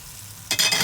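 Carrots dropped into a pan of simmering spices start sizzling loudly and suddenly, a quiet hum giving way to bright, crackling frying that stays close and strong to the end, with no talk.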